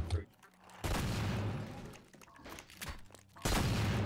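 Video game gunfire in a mall, bursts of rapid shots in two loud spells with a quieter stretch between, mixed with talking.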